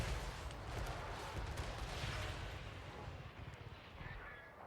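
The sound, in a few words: lead belchers firing, from video game Total War Warhammer 3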